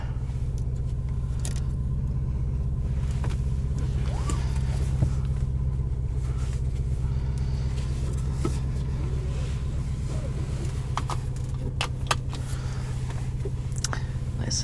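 A 2019 Lamborghini Urus engine drives in Corsa mode, a steady low rumble of road and engine noise filling the cabin throughout, with a few faint clicks and jingles on top.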